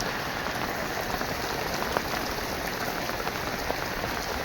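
Steady rain falls in an open outdoor setting, a dense, even hiss of drops on surfaces holding at one level throughout with no voices.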